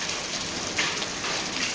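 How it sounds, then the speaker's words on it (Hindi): Large hailstones pound down in a heavy hailstorm with rain, a dense, loud, continuous clatter and hiss of impacts on surfaces, with no voices. "ओले गिर रहे हैं, देखो कितने बड़े हैं।"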